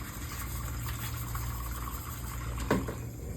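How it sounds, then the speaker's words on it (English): A big scrub brush is rinsed under running water in a steady, close, even flow, with a brief louder splash near the end. "Rinse that off"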